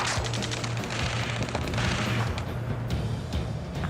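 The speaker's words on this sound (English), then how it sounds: "Taking fire! We're pinned down! Shoot back!" Gunfire in a video-game ground firefight in Ace Combat 7, a loud dense barrage of rapid automatic bursts and overlapping shots, with sharper single cracks standing out over steady noise throughout.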